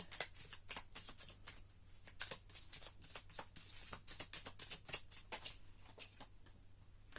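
Oracle cards are shuffled by hand up close, a quiet run of quick riffling slaps and soft card flutters in irregular bursts, with no voice.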